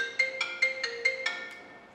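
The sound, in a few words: phone ringing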